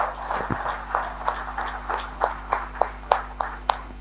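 A few people clap sparsely in a meeting room, the claps arriving as separate, sharp, fairly close smacks with uneven spacing under a low steady hum, a scattered small round of applause for the leaders rather than a full ovation.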